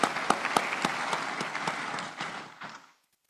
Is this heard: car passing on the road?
no